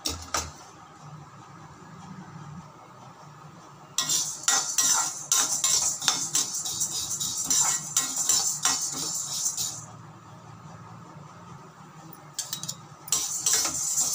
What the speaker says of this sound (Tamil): இப்போ அதே குட்டி அழகால் உளுந்து இதுவும் நல்லா வறுபடணும்.